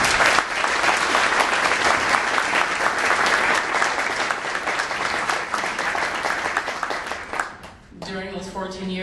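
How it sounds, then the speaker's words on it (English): Sustained audience applause at a charity luncheon, loud and dense clapping from a large room that fades out near the end as a voice begins to speak. "I would like to give a round of applause to all three of you."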